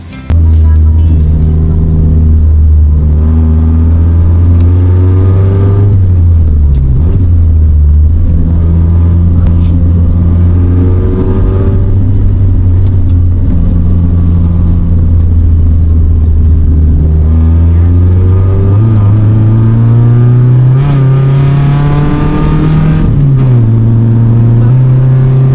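Old cars climb uphill on Cannon Road in Baguio during a road test. A loud, close, continuous engine drone rises and falls in pitch as the engine labours and revs up the slope.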